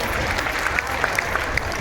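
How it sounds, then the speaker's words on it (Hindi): An audience at a public event with the chief minister applauds loudly, a dense continuous wash of clapping with a few sharper individual claps standing out. "जोरदार तालियों से चल।"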